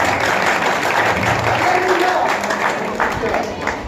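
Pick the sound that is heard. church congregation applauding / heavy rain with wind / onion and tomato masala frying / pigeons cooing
church congregation applauding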